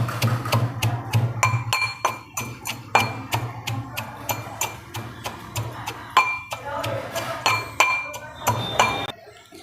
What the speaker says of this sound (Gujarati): ભેગું જ આપણે આવી રીતે ખાંડણીમાં ખાંડી લેવાનું અધકચરું